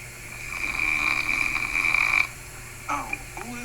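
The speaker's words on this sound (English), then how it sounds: "Could you mute the brother that's snoring?" A person snoring with a steady drawn-out rasp through most of the stretch, fairly close, before it stops and a few short unclear sounds follow.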